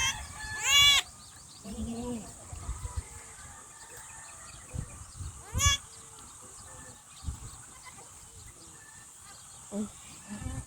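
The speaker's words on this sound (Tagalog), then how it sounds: "Ngayon lang ako nakakita ng kambing na nanganganak, eh." Goats on a province farm during a birth, with a couple of loud, wavering bleats near the start and midway, over quieter rustling and low background noise while people talk softly.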